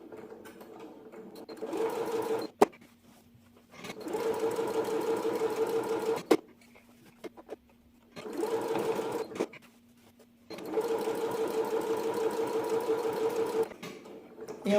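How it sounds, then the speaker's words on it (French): A sewing machine runs a straight stitch on wax-print fabric in close, steady bursts of rapid mechanical chatter, four runs of about two to three seconds each separated by short quiet pauses with faint clicks. "on passe ensuite au point droit à la machine comme pour l'encolure tout à l'heure"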